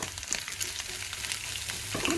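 Goat meat sizzling in a hot pan as onions go in, a dense close frying hiss with a few stirring scrapes and clatters, loud and steady with no voices.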